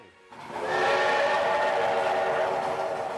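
An express train with sleeping cars sounds a sustained steam-style whistle that swells quickly and holds loud and steady, a tonal blast over a faint rail rumble.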